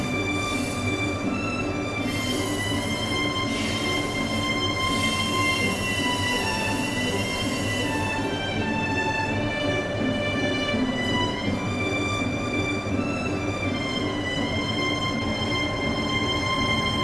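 An Echigo Tokimeki Railway ET122 train rumbles steadily nearby leaving the depot, wheels squealing in sustained high tones as it slowly moves along the track.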